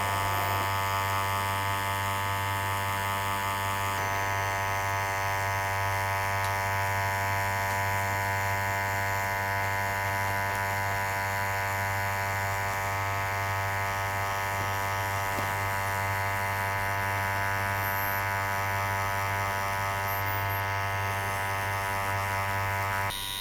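A tattoo machine running steadily while packing solid black ink with a cartridge needle into skin, giving a continuous close electric buzz with a strong hum and no talk.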